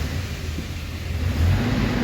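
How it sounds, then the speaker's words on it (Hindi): A Toyota Hilux engine, previously cranking without starting due to an ignition coil fault, runs and revs, a steady mid-low rumble that swells toward the end with no talk. "हमारी गाड़ी यहाँ स्टार्ट है"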